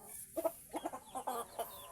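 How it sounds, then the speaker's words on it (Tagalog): A fighting rooster gives a quick series of short, nasal clucks, close and fairly quiet. "himas muna sa mga ating manok panabong."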